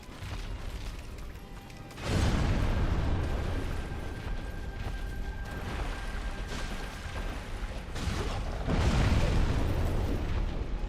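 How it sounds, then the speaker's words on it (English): Explosions in a dark action video game during a boss fight, heavy booming bursts landing around two and nine seconds over a continuous rumbling, clanking game soundscape. "That was an explosion."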